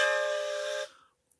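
A steam whistle from Thomas the Tank Engine sounds once in a single steady, bright, reedy blast lasting under a second, loud and close, then cuts off into quiet.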